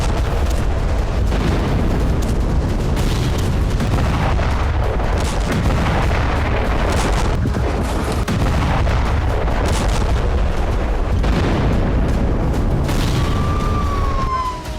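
Bombardment explosions over a residential area of Gaza rumble continuously, with repeated heavy booms and distant crashes layered over a dense low roar, and a faint rising whistle near the end.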